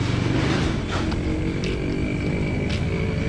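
Loud motorcycle passing on a street, a rough engine roar that is strongest at first and then fades slightly while staying prominent throughout.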